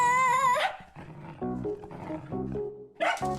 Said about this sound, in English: Ungrateful dog.